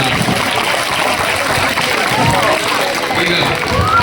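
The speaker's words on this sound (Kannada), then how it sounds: "ಜೋರಾಗಿ ಒಂದ್ಸಲ ಚಪ್ಪಾಳೆ ಹೊಡೆಯೋ ಮುಖಾಂತರ ಅಭಿನಂದನೆ ಸಲ್ಲಿಸೋಣ." Audience at a school retirement function for a mathematics teacher breaks into loud sustained applause, a dense, even wash of clapping from many hands filling the whole stretch without a break.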